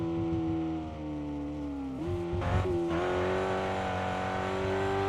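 Detuned dirt racing car engine fitted with different mufflers and a low-profile intake, idling steadily close by with a brief blip of revs around the middle, then settling back to a loud, even idle.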